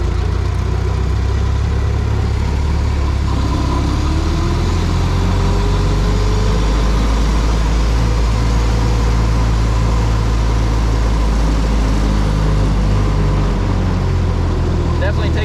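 A 1916 Ford Model T engine runs steadily as the car pulls away, a low, continuous chugging rumble close by with a rising whine, while someone talks over it.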